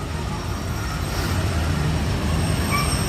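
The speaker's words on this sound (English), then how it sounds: "Alright, so monorail red coming up your way." The red Disneyland monorail rolls in toward Tomorrowland Station, a loud, close, continuous rumble of wheels and motors with faint squeals on top, and no talking.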